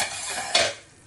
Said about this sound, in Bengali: ওকে, তাহলে ঢাকনাটা তুলে নিচ্ছি।